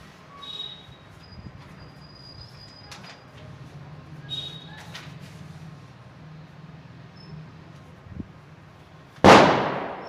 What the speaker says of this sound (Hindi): पटाखे तो बच्चों का जन्म सिद्ध अधिकार है, आप भी जलाते हैं तो जल रहे हैं